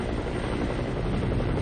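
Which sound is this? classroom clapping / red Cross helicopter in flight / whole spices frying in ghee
red Cross helicopter in flight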